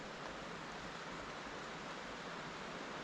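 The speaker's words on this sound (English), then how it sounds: "I can hear fast moving water now, so you can tell we're getting close to the waterfall." Faint, steady broadband rush of fast-moving water from a waterfall along a muddy trail, continuous and unbroken throughout, heard from some distance with no voices.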